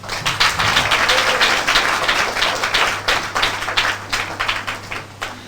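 An audience at a school for blind and deaf children claps steadily and loudly, with irregular hand claps continuing throughout.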